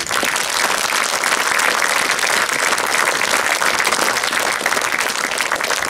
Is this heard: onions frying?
no